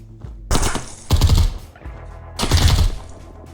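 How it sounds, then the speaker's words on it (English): Automatic rifle fire in the tactical shooter Ground Branch, on a 747 mission: three loud, close bursts of rapid shots, each about half a second long, with brief gaps between them. "I'm getting better at controlling my automatic fire."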